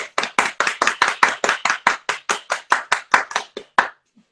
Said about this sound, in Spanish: Clap, everybody clap, please. I want to see everybody clapping.